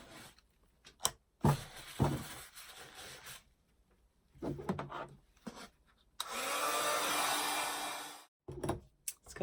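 A hair dryer blows steadily for about two seconds to dry an inkjet photo transfer, a broad airy whoosh that stops abruptly, following scattered handling and rubbing noises.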